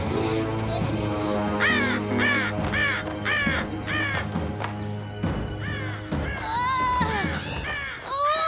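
Crows cawing in an animated cartoon about wolves: a long run of loud, harsh caws, several overlapping, repeated in bursts over a sustained music bed.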